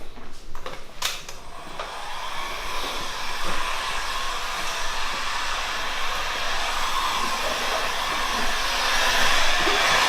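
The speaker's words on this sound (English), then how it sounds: "So we'll go over with heat and my thumb real quick." A heat gun blows a loud, continuous rushing airflow while vinyl wrap edges on a car are sealed. It runs steadily throughout with a few clicks at the start.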